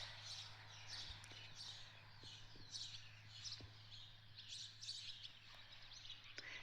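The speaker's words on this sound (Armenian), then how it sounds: "Այստեղ թռչունների ծլվլոց" Small birds chirp and twitter in quick, repeated bursts on a mountain village morning. The calls are faint and slightly distant over a low, steady background hum.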